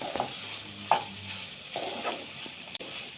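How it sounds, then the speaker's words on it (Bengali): Fried eggplant mash with egg and chopped coriander being stirred in a pan, a few soft scraping strokes and light clinks over a faint low sizzle, close and quiet. "এবার পুরোটার সাথে ধনেপাতাটা ভালো করে মিশিয়ে নিচ্ছি।"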